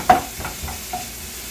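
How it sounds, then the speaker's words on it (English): Bacon frying in a pot for charro beans is stirred, giving one sharp scrape followed by a few softer scrapes over a low, steady sizzle, close by and with no talking. "you just want to cook this down and render as much bacon fat as you can off of the bacon"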